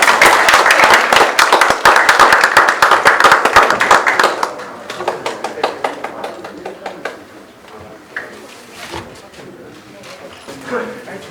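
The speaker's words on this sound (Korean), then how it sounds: "박수로 맞이해주시기 바랍니다" Applause from an audience at a Korean public policy award ceremony, a dense burst of clapping for about four seconds that thins into scattered, fading claps under a hall's ambience.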